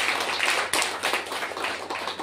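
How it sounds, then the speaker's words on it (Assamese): Church congregation clapping hands together in thanks to God, a dense, steady patter of many claps with a sharp burst near the start, no voices standing out. "হালেলুয়া আমি জোৰকে তালি বজাই ঈশ্বৰক ধন্যবাদ কৰিম"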